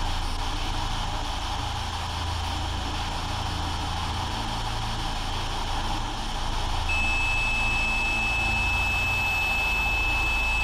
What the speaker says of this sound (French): Un bip oui, plusieurs bips non.